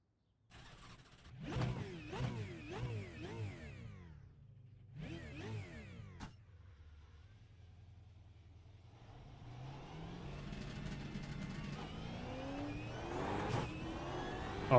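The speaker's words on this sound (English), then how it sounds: "Oh, such great sound, this car." A GT3 race car in a racing sim on the Mexico GP track revs in a few sharp rising bursts, then settles into a sustained, building engine drone with tire and track noise.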